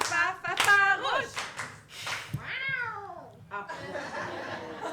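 A voice imitates a cat, giving drawn-out, wavering meows that rise and fall, mixed with laughter and chatter from others in the room.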